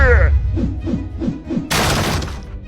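A house is smashed during a village attack in a video game: a short series of rhythmic thumps, then a loud, bright crash of breaking debris, following a brief voice.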